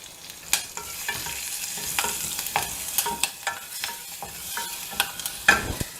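Cumin seeds, asafoetida and green chilli crackle in hot ghee for a methi dal kootu, a steady close sizzle broken by sharp pops and spatters and a few stirring clinks, with no voices.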